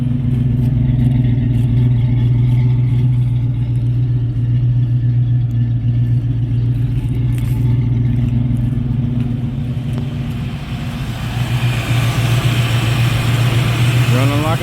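A car engine idling after a carburetor swap with an electric choke, a steady low rumble with a light mechanical clatter that holds throughout, close and loud, with a slight change near the end.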